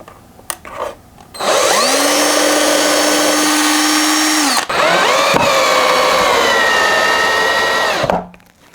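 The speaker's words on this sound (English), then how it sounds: "you're going to want to pre-drill so you don't split the wood" A power drill pre-drilling into wood whines loudly and steadily for several seconds, pauses briefly, then runs again with a slightly changing pitch before stopping, very close.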